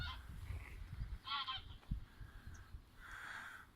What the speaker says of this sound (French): en fait ce sont des oies, mais c'est bien le signe du printemps.